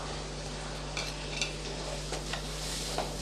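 Sliced capsicum, carrots and beans sauté in a pan for vermicelli biryani, with a soft, steady sizzle and a few light scrapes of a stirring spoon, close and without talk.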